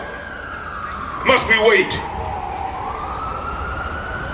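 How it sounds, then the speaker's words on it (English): An ambulance siren sweeping past a street rally for police accountability in Portland, Oregon, its wail rising and falling beneath a speaker addressing the crowd, with a burst of louder street noise in the middle. "Can't compete with the ambulance."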